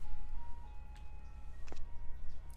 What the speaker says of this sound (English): Do you guys hear the ice cream truck?